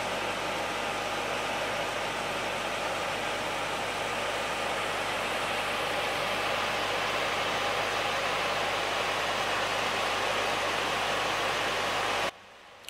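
A John Deere 400 garden tractor engine runs steadily with an old John Deere snowblower mounted, a constant, even drone from near by that holds for about twelve seconds and then stops abruptly.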